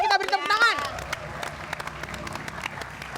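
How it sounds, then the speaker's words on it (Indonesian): A studio audience on an Indonesian celebrity talk show bursts into steady applause after a brief voice, the dense clapping continuing evenly at moderate volume to the end. "mari kita beri tepuk tangan"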